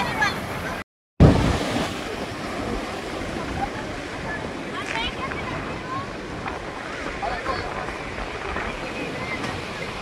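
Sea waves washing along the coast at Dwarka in Gujarat, a steady broadband roar of surf with wind noise across the microphone, continuous and fairly loud after a brief dropout near the start.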